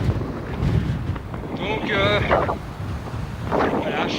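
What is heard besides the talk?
headwind while cycling at 3000 metres altitude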